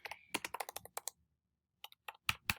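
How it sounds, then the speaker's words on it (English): Someone types a reply on a computer keyboard, giving quick bursts of close, crisp key clicks. A short pause separates the first run from a few sharper, louder strokes at the end. "I'm going to type my reply"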